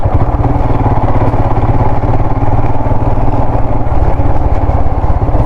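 Go-kart engines drone and rattle continuously at close range on a racing track in Thrissur, Kerala, a steady buzzing motor sound.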